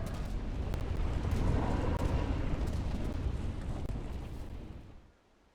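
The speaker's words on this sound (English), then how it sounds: "it just did the cool boss explosion where, it looks cool, but it doesn't do any damage" A boss blows up in the game Steamworld Quest with a loud, dense rumbling blast that roars for about four seconds and then cuts off abruptly to near silence.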